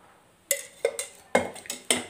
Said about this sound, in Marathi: तर मी कढई टेकवली, तर सर्वप्रथम मी आता त्याच्यामध्ये तेल टाकते।